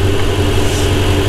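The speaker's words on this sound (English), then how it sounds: "engine running, car is warm" A warmed-up Ferrari 488 engine idles steadily up close, a continuous low rumble with a smooth, even tone and no talk over it.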